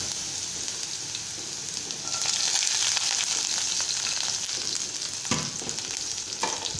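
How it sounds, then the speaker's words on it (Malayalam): Ginger and garlic sautéing in hot oil with mustard seeds, a dense continuous sizzle that swells louder midway, with scattered crackles and spatula scrapes, no talking. "ഇഞ്ചിയും വെളുത്തുള്ളിയും ഒന്ന് വാടി വരട്ടെ"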